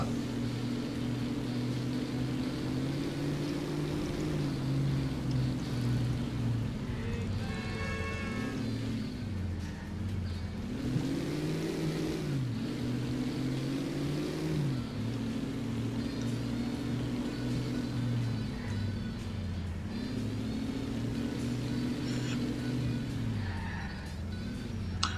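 A tow truck drives through GTA 4, its engine droning steadily with repeated rises and falls in pitch as it speeds up and slows, continuous and fairly loud throughout.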